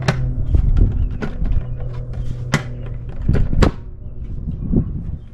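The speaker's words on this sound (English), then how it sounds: "All the clips come off, and then the center clip has to come out too." A wheel cover pried off a car, a series of sharp plastic clip pops and snaps with scraping and handling noises in between, close and uneven in rhythm.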